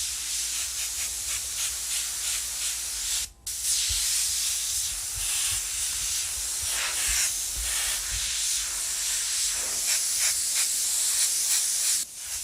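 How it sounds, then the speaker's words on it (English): An airbrush mists paint for a graffiti-style piece, a loud continuous close hiss of spraying air with a short break early on and subtle pulsing as the trigger is worked. "it's just basically misting the paint on the edges"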